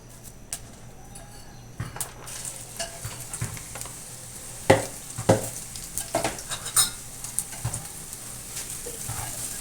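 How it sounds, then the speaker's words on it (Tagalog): Papaya sizzles steadily frying in hot oil while a utensil stirs and scrapes the pan, with occasional sharp clinks. "Yan, prito natin yung papaya."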